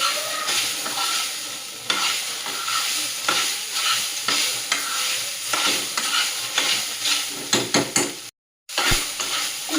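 Tomatoes and green chillies fry for sabudana khichdi while being stirred, a close sizzle broken by regular scraping strokes of a spoon against the pan, with a brief cut to silence near the end.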